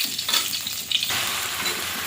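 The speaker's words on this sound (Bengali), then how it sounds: "কড়াইটা গরম হয়ে গেছে, এবারে ঢ্যাঁড়সগুলো দিয়ে দেবো।" Okra hits a hot wok and sizzles, a sudden loud burst of frying that settles into a steady, dense crackle and hiss with no talking.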